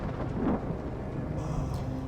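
A thunderstorm rumbles steadily at night in the Detroit: Become Human video game, with low continuous thunder and rain noise and no voices.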